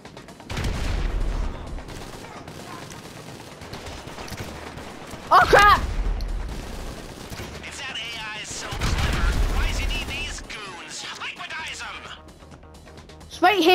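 Bursts of gunfire from a GTA Online Doomsday heist mission, with a sharp volley around the middle and another sustained spell of shooting later, heard under ongoing talk from players.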